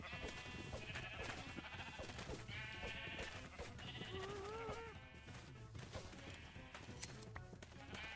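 Sheep in Minecraft bleat repeatedly over a dense, busy background, with several wavering cries spread across the stretch at moderate volume.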